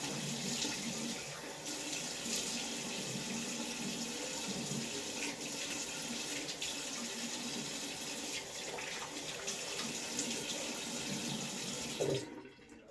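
Tap water runs steadily into a sink while a face is rinsed, a continuous close hiss and splash with small shifts as hands move, cutting off near the end.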